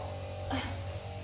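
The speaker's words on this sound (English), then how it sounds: "they're starting to weed eat next door, so sorry about that noise." A string trimmer drones steadily next door, a continuous buzzing motor whine that holds level throughout with a brief swell midway; no one speaks.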